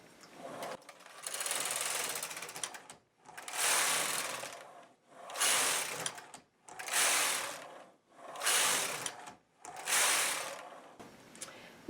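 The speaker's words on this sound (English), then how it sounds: "My row counter is on 0, 0, 0, and I'm going to knit 6 rows." A knitting machine carriage is pushed back and forth across the needle bed knitting rows, six steady whooshing, clattering passes with short pauses between them, close and clear, no talking.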